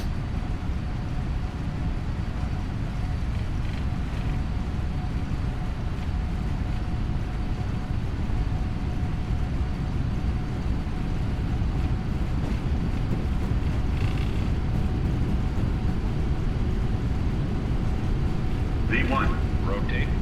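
Airliner engines in a flight simulator spool through the takeoff roll toward an engine malfunction at rotation: a steady, loud, close low roar fills the whole stretch, with a few brief brighter bursts near the end.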